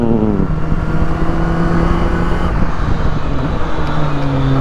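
Honda CB400SB motorcycle running with a sustained whining tone from its brake pads, heard alongside engine and road noise, the pitch wavering and rising slightly near the end.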